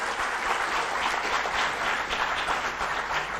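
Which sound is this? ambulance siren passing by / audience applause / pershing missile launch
audience applause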